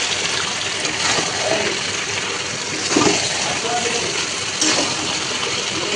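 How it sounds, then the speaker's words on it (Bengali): Hot water pours steadily into a pot of chicken curry, making a continuous, close rushing splash that swells slightly in places, with someone speaking over it. "গরম জলটা দিয়ে দেবো।"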